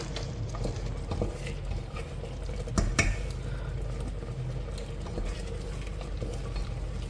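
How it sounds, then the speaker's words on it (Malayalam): A spoon stirs cooked green gram erissery in a pot, giving a steady, close scraping and soft bubbling with one brief sharper knock partway through. "നല്ല പോലെ ഇളക്കി കൊടുക്കാം"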